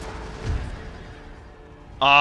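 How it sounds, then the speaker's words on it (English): Enemy cannons fire during a battle in Empire: Total War, heard as a muffled, distant low boom over a constant battlefield rumble. A brief bright tonal blare cuts in at the end. "the enemy cannons are firing into the mess here"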